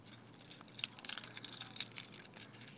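A ring holding car and house keys jangles in a steady run of light metallic clinks, close but soft, with no voices.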